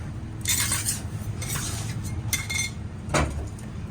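Watermelon ribbon candy being mixed and folded on a work surface, with soft scraping and light clinking strokes in a few separate bursts over a low steady hum.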